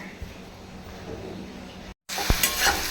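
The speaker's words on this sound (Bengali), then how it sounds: "সমস্ত সবজি ভাজা হয়ে গেছে" Vegetables sizzle and crackle in a pan with occasional stirring scrapes, a brief pause, then louder frying with a sharp clatter.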